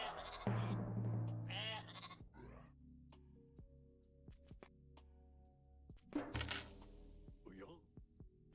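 A sheep bleats in a video game, a couple of short bleats rising over sparse game sound effects and occasional clinks, with a voice talking in the background.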